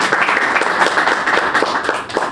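Steady round of applause from an audience at a speaking club meeting, many hands clapping densely and evenly throughout at moderate loudness, with no voices over it.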